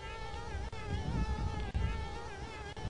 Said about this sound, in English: Now, if you go in water, the bees will stop following you, of course.